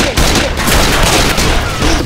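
Loud, dense gunfire fills the scene in the video game Left 4 Dead 2, overlapping shots and bursts running continuously with no break for the whole stretch.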